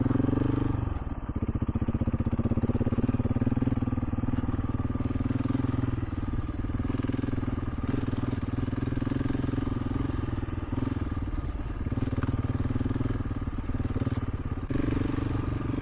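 A motorcycle rides along a dirt trail in the airport area west of Riga, its engine droning loud and close throughout, with rattles and thumps from the rough ground and brief swells of throttle, no talk.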